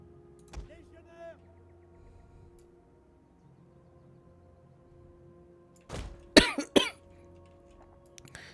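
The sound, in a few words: coughing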